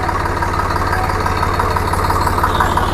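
The diesel engine of an old Swaraj 735 FE tractor idles steadily nearby with a loud, even low-pitched thrum and faint knocking that never changes across the stretch.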